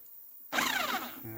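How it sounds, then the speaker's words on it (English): A corded 1/2-inch impact wrench with a 15/16 socket spins a nut off a lawnmower flywheel. There is a short, abrupt whirring burst up close that starts after a moment of quiet and fades slightly at the end. "actually I got a corded 1/2-inch impact with a 15/16 socket on there. And I'm just going to spin this guy off."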